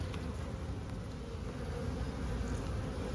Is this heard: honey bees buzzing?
yes